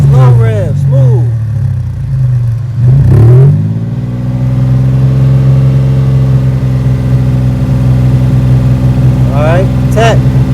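A 2001 Toyota 4Runner fitted with a Borla muffler revs slowly and smoothly, rising from a steady idle into a loud, deep exhaust drone that holds and then settles, with a few brief whistly tones near the end.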